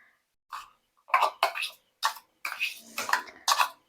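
A spoon scrapes and taps against a bowl while coconut chutney is transferred into it: a series of short, close scraping strokes with brief pauses between them and no talking.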